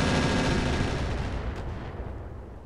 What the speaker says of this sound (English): Well, there goes our artillery.